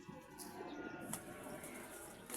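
Pigeons coo softly in a loft, one checkered and one white with checkered markings, a low murmuring call repeating faintly beneath a steady wash of background noise.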